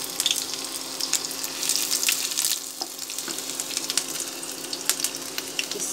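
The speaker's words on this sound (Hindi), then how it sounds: "थोड़ा सा तेल डाल दी, ये अदरक लहसुन है" Ginger and garlic fry in a little oil for veg manchurian, a soft steady sizzle with crackling pops and occasional stirring, fairly quiet and close.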